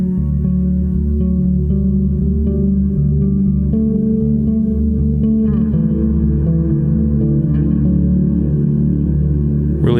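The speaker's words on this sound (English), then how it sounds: "It has good reverb sounds and good basic delay sounds" Electric guitar played through a combined delay and reverb effect setting, sustained chords and notes ringing out with long washy echoes and repeats, loud and alone without talk.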